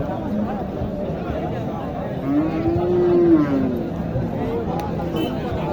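A cow moos once, long and low, amid the murmur of a crowded cattle market with people talking nearby.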